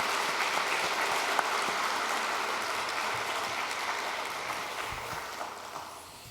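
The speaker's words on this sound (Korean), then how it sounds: "우리 감사와 축복의 박수 한번 하십시다" A church congregation at a Sunday afternoon worship service breaks into broad, continuous applause that fills the hall, holding steady before gradually thinning and softening toward the end.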